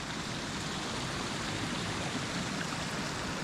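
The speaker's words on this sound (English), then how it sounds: "So you've got a bit of a waterfall at the back end there, about 6 to 8 feet drop" A small waterfall with a drop of about six to eight feet at the back of a campsite, heard as a steady, unbroken rush of splashing water from nearby.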